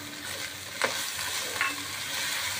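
Chicken pasta ingredients are stirred in a pan, with a spoon scraping twice against the metal over a steady soft sizzle; no one speaks.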